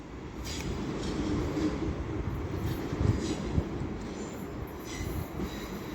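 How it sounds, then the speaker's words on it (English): A London Northwestern Railway train rolls into Stafford station on the West Coast Main Line, a steady rumble of wheels on rails with light clicks and faint squeals, fairly close and with no voices. "And now coming in is the 1411 London Northwestern Railway service to Liverpool Lime Street."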